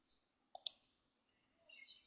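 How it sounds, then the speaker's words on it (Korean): Two quick, faint clicks of a delete key being pressed on a computer keyboard, close together, followed after a pause by a soft brief rustle; no voices. "얘를 블럭 잡아서 딜리트 누르시면 돼요"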